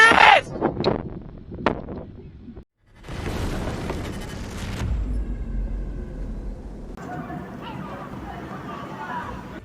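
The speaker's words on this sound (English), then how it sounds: "Explosions have been heard in Crimea." Low booming blasts from a missile and drone attack on an airfield in Crimea rumble in the distance, followed by a sustained noisy roar with muffled crowd-like noise mixed in.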